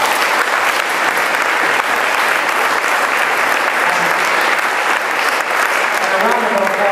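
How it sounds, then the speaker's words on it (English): Sustained audience applause at a panel question-and-answer session at the Ethical Society of St. Louis, steady dense clapping from a room of people filling the whole stretch with a little talk mixed in. "I'd like a round of applause for our moderator."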